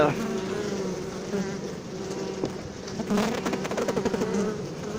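Honey bees buzz steadily up close on a hive frame, a dense droning hum with shifting pitch that swells slightly toward the end, no voices.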